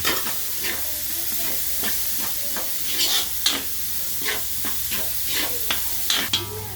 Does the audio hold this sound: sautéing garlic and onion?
yes